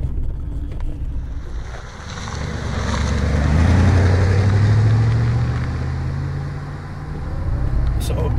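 A 1981 Euro-spec Mercedes 380SLC with a four-speed automatic and 123,000 km drives along. The engine drone rises steadily in pitch, then drops back as the gearbox shifts, under a constant rush of wind and road noise.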